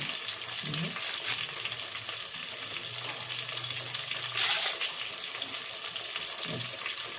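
Curry leaves hit hot oil in a pan of sizzling chicken curry, a steady broadband frying hiss running throughout with a louder crackling burst near the middle and faint low stirring thumps.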